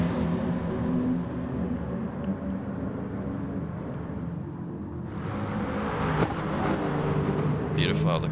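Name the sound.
two Aston Martin race cars coming around a corner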